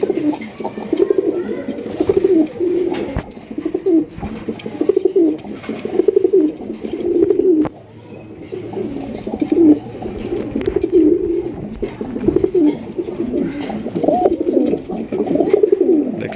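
Indian Bombay pigeons coo close by in repeated soft, throaty phrases, one after another in a steady rhythm. A faint background hum runs under the calls.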